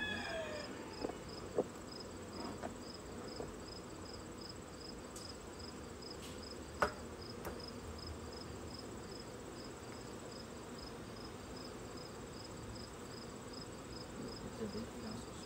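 Honeybees buzzing around an opened hive frame holding pollen, brood and some drones, a faint steady hum with occasional small knocks.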